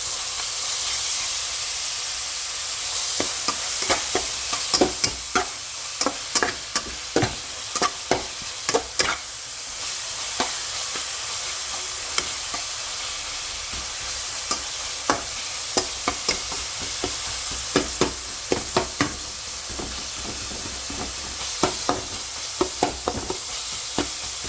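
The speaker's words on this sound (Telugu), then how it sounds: "హైలో పెట్టుకుని ఫ్రై చేసుకోవాలండి. చూసారు కదండి, ఇలా ఫ్రై అవుతుంటాయి." Veg Hakka noodles stir-fried on high heat give a constant loud sizzle and hiss, punctuated by sharp, irregular clacks of a spatula against the pan in quick bursts.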